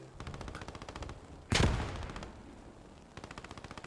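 In the Post Scriptum war game, rapid machine gun fire rattles in steady bursts, with one loud close shot or blast landing midway before the distant chattering resumes.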